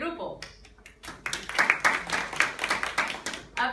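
Classroom of students clapping to vote for a group; a few quiet claps and a voice at first, then a burst of lively, uneven clapping from a small group, fairly close, with some talk mixed in.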